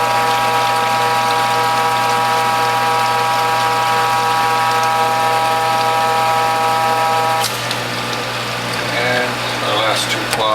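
A juice press at work squeezing juice through pressing cloths, giving a steady, loud motorized hum with a constant drone that runs throughout, joined near the end by brief clattering handling noises.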